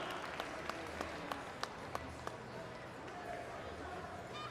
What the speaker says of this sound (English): Let's give Lazy T Ranch a big round of applause.